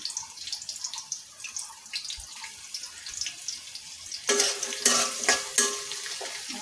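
Beef fries in a pan with bay leaves and garam masala, a light sizzle with scraping stirs, then louder, denser crackling and splattering takes over partway through.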